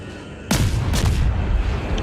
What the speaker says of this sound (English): Really high rate of fire, and you have 7 guns on target